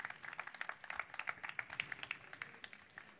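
An audience at a ChangeNOW 2022 conference session claps in a fairly faint, moderate round of applause, with individual hand claps distinct in a quick irregular rhythm throughout.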